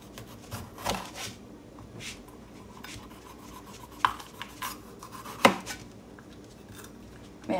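A somewhat dull knife chops vegetables on a cutting board, with scattered scraping rubs and a few sharper knocks at irregular intervals, quiet and close, with no voices.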